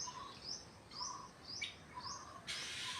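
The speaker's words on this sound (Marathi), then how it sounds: "हे बघा कसे किलबिलाट चालू आहे." Birds chirp at dawn in Konkan, with repeated short, bright whistled calls in a regular pattern over faint background noise, fairly quiet and somewhat distant.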